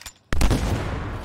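Gunshot from the video game Anthem on PC, a single sharp loud blast after a brief quiet moment, followed by a rumbling decaying tail.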